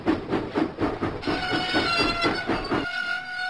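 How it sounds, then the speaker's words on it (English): Animated steam locomotive puffing out of the docks, its rhythmic chuffs beating steadily at close range over a rumbling rail sound, then a long steady whistle-like tone rising above it near the end. "James pumped his pistons and puffed out of the docks."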